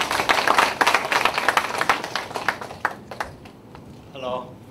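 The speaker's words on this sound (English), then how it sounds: "Big applause, please." An audience claps for the founder at the opening ceremony of a global leadership program, a fairly loud burst of many hands that fades out after about three seconds, followed by a short ringing tone.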